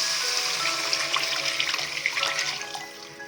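Tamarind water mixed with chili powder being poured into a pan of kuzhambu, a continuous close splashing gush of liquid that tapers off near the end.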